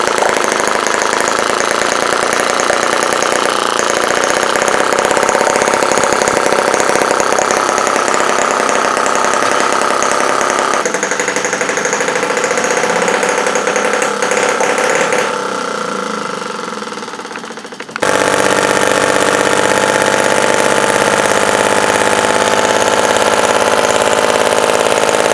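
A mini four-stroke gas steampunk engine runs at low throttle, a loud continuous putter with rapid knocking firing that changes pitch a few times and briefly dips before resuming strongly, with no speech.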